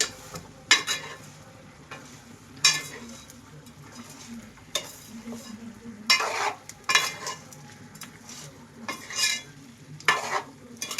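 Telangana-style chicken curry is stirred in a frying pan, with a spoon scraping and clinking in irregular strokes over a low, steady sizzle, close and fairly loud.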